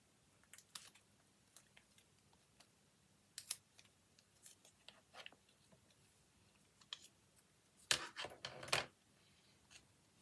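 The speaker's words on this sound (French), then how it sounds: "Je vais le découper pour me rendre compte." Scissors snipping a small paper envelope for an art collage, a series of short, crisp cuts and rustles close by, with a louder burst of cutting and crinkling near the end.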